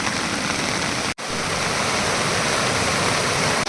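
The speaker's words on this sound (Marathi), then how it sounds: "ओढ्याला खूप मोठ्या प्रमाणात पाणी आलेलं आहे" Loud, steady roar of a flooded stream, a dense continuous wash of turbulent water noise close by, with one brief dropout.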